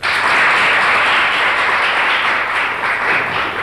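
A studio audience on a 1992 Turkish television show gives loud, continuous applause as a guest leaves. The clapping is dense, close and sustained at an even level throughout.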